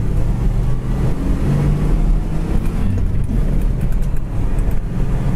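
A 1971 Oldsmobile Cutlass with a 350 two-barrel V8 running, a deep, steady, loud engine rumble heard up close with slight fluctuations and no talking.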